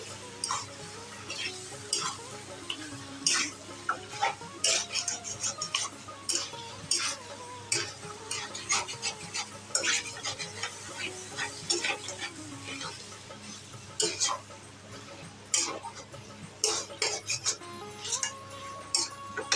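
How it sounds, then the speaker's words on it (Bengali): Chicken pieces for do pyaza are stirred in a frying pan, with a spatula scraping and clinking against the pan in frequent irregular strokes over a steady low sizzle, close and moderately loud. "মাংসটা দিয়ে ভালো করে নাড়িয়ে নিচ্ছি। ভালো করে নাড়াতে হবে বারবার করে, নাহলে লেগে যাবে নিচে।"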